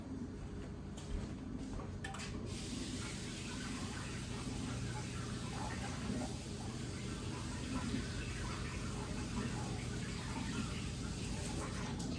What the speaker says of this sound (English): Go ahead and rinse these off.